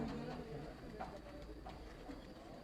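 Pigeons cooing on a rooftop, soft repeated low coos at a distance under a voice talking nearby, with faint background hum.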